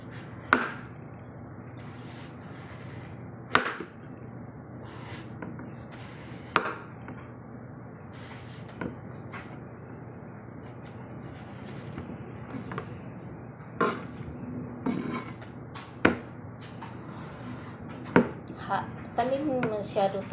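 A very sharp kitchen knife chops food on a board with irregular, crisp knocks spread across the stretch, fairly close, over a steady low room hum with occasional faint voices.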